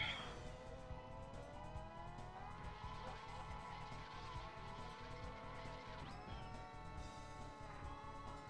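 Karts in Mario Kart 64 whine at high pitch with engines that rise and fall through drifts, over a rhythmic background music beat. The sound stays steady and fairly quiet throughout.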